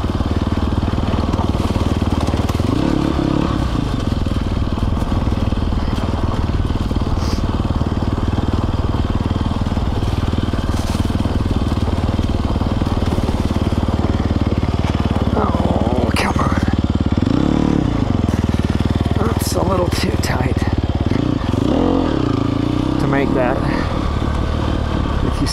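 A 2020 Sherco 300 SEF Factory dirt motorcycle running nearby, a steady loud engine drone with occasional revs and surges, and someone talking over it.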